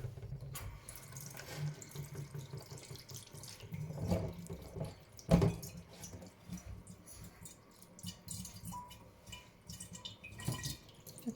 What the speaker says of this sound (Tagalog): Pinifilter namin yung tubig.